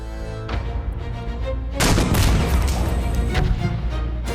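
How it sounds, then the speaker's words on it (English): Explosion and gunfire in a shooter video game: a booming blast rolls in and is followed by a heavy burst, then sharp cracking shots and rumbling continue, loud and close, without talk. "That explosion right there would rock his world with the overpressurization and frag coming out of that."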